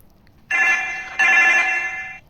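A telephone rings in two bright electronic bursts, each lasting under a second with a brief gap between, loud and clear over a quiet background, with no talk.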